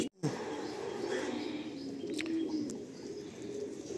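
Andhra high flying pigeons cooing in a loft for sale in Kolkata, low soft coos under a continuous murmur of voices and room noise, with a few faint higher chirps.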